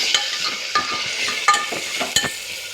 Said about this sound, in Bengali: টমেটো কুচি এটা দিয়ে আমি কিছুক্ষণ নাড়াচাড়া করে নেবো